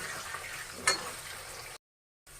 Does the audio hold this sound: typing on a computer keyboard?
no